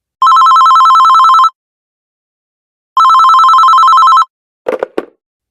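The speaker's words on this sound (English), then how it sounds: "That evening, my phone rang." A telephone rings in two long electronic trills separated by a pause, loud and close, followed by a short clatter like a handset being picked up.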